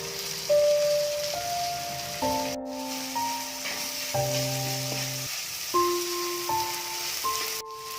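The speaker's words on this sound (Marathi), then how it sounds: "आता मी इथे बारीक चिरून ठेवलेला एक टोमॅटो टाकते." Finely chopped tomato and garam masala fry in a pan for an Alibag-style prawn tawa masala, with a steady close sizzle and crackle running beneath a gentle melodic music bed.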